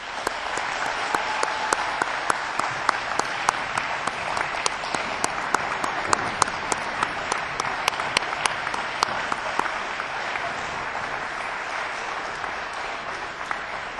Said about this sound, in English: please join me in one more warm round of applause for the inaugural class